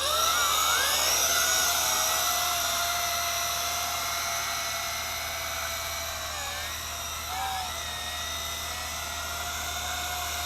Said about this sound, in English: let's go for a flight with the WLToys V666